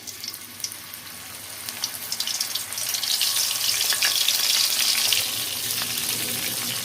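Cauliflower frying in hot oil over medium heat, crackling and spitting that swells into a loud, steady sizzle after a few seconds and stays up close.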